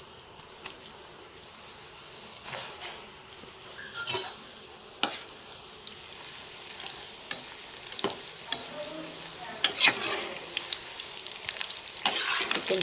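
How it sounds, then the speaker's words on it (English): Gulab jamun deep frying in hot oil over a low flame: a steady, fairly soft sizzle with scattered crackles and a few sharper pops, no voices. "Now I am going to deep fry in the oil"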